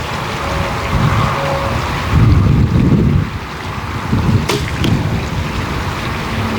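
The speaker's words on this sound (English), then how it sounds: "We got a really windy day out here and a lot of big gusts" Loud, rumbling wind buffets the microphone in gusts that swell and ease during outdoor archery with a Centaur Supercurve bow, with a couple of sharp knocks near the end.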